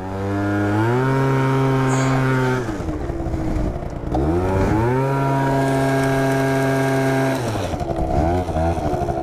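A scooter doing a burnout on a meadow, the engine revving hard in long sustained whines that drop and climb again, loud and close, with a brief dip between bursts.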